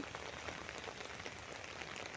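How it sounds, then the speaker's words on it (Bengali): Rain falls in Chattogram, a dense, even patter on surfaces that stays soft and constant with no voices. "আবারও চট্টগ্রামে বৃষ্টি"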